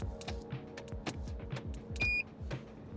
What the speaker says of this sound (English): you either gonna hear 1 beeping sound or 2 beeping sounds